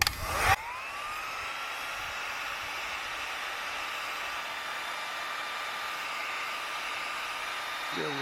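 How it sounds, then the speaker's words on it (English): A heat gun heating solder flux on a wire, switching on with a brief clatter and then blowing a loud, steady whirring hiss at close range, with a faint knock at the end. "now I'm going to heat it up with the heat gun here"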